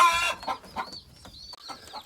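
A batch of ten newly arrived baby chicks, egg-laying hens among them, peeps and chirps in a close, busy chorus of high calls with rustling underneath and no talking.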